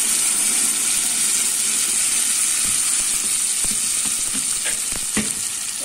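Lentil soup is poured into a pan of hot fried tempering and breaks into a loud, steady sizzle and hiss. A few soft stirring clicks sound toward the end.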